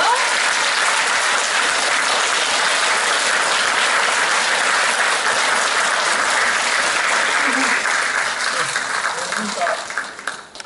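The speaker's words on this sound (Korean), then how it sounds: "뜨거운 박수로 맞이해 주십시오" An audience at a book concert and lecture event welcomes an ultramarathon cyclist with loud, sustained applause that holds steady for around nine seconds, then thins out and fades toward the end.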